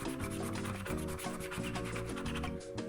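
A scratch-card lottery ticket at a funfair is scratched with quick, repeated rubbing strokes, a close, rhythmic rasping that continues without pause.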